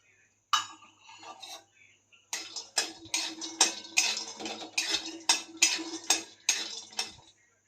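Pistachios being roasted in a pan, a brief scrape after a quiet start, then a run of rhythmic metallic scraping and clinking as a spoon stirs the nuts against the pan, close and fairly loud.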